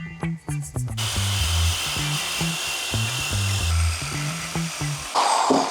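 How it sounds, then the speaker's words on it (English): A power tool cuts out a section of the bumper on a broken V8 Mercedes, giving a sustained harsh grinding hiss over rhythmic low mechanical pulsing, close and loud throughout. "so we may have to cut part of this bumper out"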